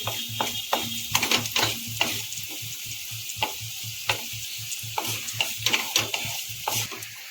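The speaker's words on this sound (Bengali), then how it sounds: "ফোড়নটাকে খুব ভালো করে ভেজে নেব" Whole spices including bay leaf and chili sizzle and crackle in hot oil while a utensil stirs and scrapes the pan in a steady, repeating rhythm, close and fairly loud.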